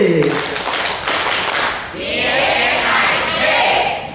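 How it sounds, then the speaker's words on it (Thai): A group at a BFSI food sanitation training session claps together in a rhythmic pattern, loud and close, with a crowd voice in the mix. "ปรบมือแบบ BFSI พร้อมกันทั้งเจ็ดกลุ่มไป สามสี่"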